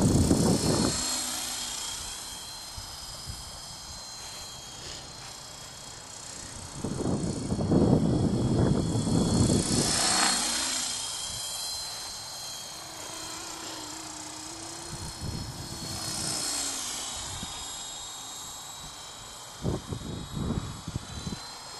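A Super FP radio-controlled model helicopter held at full throttle, its high, steady rotor and motor whine droning close by with swelling bursts, without talk.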